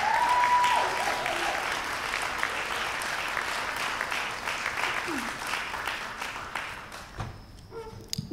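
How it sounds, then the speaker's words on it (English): Sustained audience applause at a political speech honoring a farm-freedom advocate, steady and dense for most of the clip before tapering off near the end, where a voice briefly emerges. "So please give a big round of applause of gratitude to Dan Arnold."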